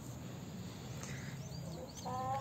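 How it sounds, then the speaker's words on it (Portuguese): A large free-range hen clucks faintly in a farmyard, with a few short clucks rising toward the end over a steady outdoor background. "Olha aí, gente, ó. Que galinha grande,"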